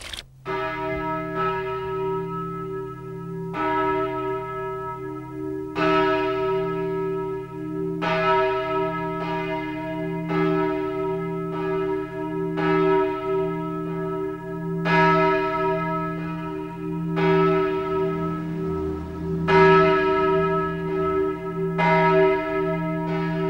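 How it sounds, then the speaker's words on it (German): Church bells ring out across a quiet valley with almost no traffic or people, a continuous peal of overlapping strokes with a steady hum beneath, loud and sustained throughout with no voices. "Glocken sind etwas vom Wenigen, wo sich mit Wucht über fast alle Zivilisationsgeräusche wegsetzen"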